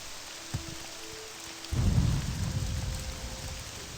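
A thunderstorm with rain in The Elder Scrolls III: Morrowind: a quiet stretch with a faint tone, then a deep rumble of thunder breaks in and rolls away under steady rain.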